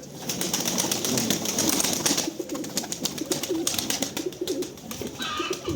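Flying pigeons coo in low burbling calls while wings flap in quick bursts, a busy flock heard close up with no talking.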